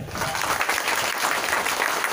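A crowd of schoolchildren applauds loudly at a school function, a dense, continuous burst of clapping that is close and sustained.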